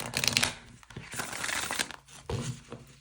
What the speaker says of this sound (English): Let's shuffle it up and get a message from this deck.